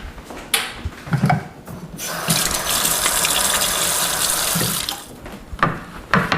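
Tap water gushes into a kitchen sink while greasy hands are washed, a loud steady stream with brief breaks and splashes near the start and end.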